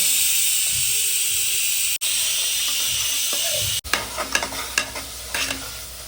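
Whole spices and chopped onion fry in hot oil, a loud continuous sizzle and hiss close by, broken by two short cuts, then lighter stirring scrapes and crackles.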